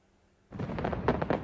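New Year fireworks go off as a sudden rumbling burst, followed by dense crackling pops and booms at a steady loudness. There is no talking.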